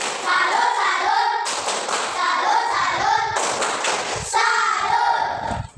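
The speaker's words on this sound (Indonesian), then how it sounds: "Tepuk salut untuk Firdi" A classroom of students doing a rhythmic salute clap for a classmate, loud patterned bursts of hand claps and slaps, with chanting voices woven through the sequence.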